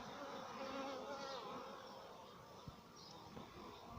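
Buckfast honey bees hum steadily at the hive, a dense and continuous buzz of many insects close by that stays even throughout, with no talk over it.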